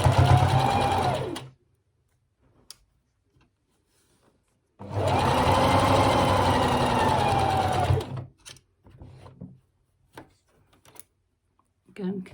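A sewing machine stitches fabric for a child's pyjama top, with two long steady bursts of rapid whirring separated by quiet pauses holding a few small clicks and handling noises, close up.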